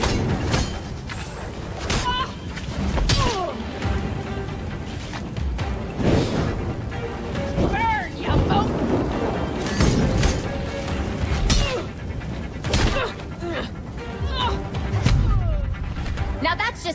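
Explosions go off like fireworks in the Gotham Knights video game, dense bursts and booms stacked over a constant loud soundtrack with shattering debris and voices talking throughout.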